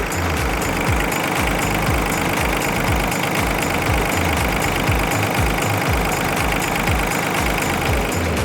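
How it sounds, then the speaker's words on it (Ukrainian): A warmed-up Yanmar Ke-30 mini tractor's small diesel engine idles with a steady, rapid knocking chug, loud and close, running unchanged throughout with no voices. "Після того, як ми прогріли двигун"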